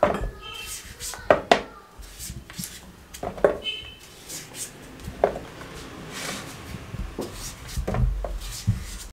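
A knife slicing through a peeled papaya on a kitchen surface, giving a series of irregular close taps and knocks against the board with some clattering of utensils, spaced over several seconds.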